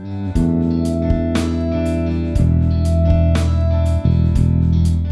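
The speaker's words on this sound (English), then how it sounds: "I'm sorry about the noise. We have some builders, I think, in one of the flats below me," Building work from builders in a flat downstairs comes through as a loud, steady mechanical drone with repeated sharp knocks and bangs at irregular intervals, and no talking.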